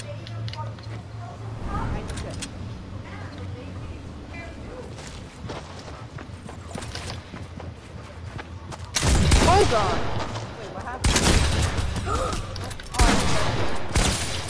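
Video game gunfire cracks out in short loud bursts and single shots, mixed with game sound effects, while players talk over the action.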